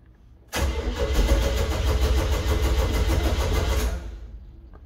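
A Ford F100 pickup truck engine cranks and catches abruptly, then runs at a steady, loud, rumbling idle with a rhythmic pulse for several seconds before dropping off near the end, heard up close with no talking.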